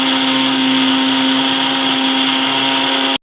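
A kitchen mixer grinder whirs loudly grinding chutney with salt, a steady high-pitched motor drone running continuously before stopping abruptly.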